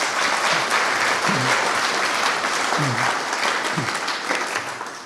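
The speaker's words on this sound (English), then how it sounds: "So a big cheer for them, please." Audience at a community fire recovery meeting cheering and applauding local helpers, a dense sustained wash of clapping from a large crowd with a few brief voices rising through it, steady throughout and easing slightly at the end.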